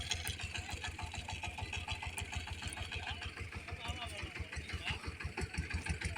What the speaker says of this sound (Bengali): এই পিছনে একটা পাওয়ার টিলার আসতেছে।